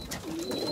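Young pigeons in a loft give a brief, soft coo close by, with faint room noise around them.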